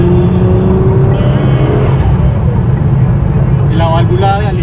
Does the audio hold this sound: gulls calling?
no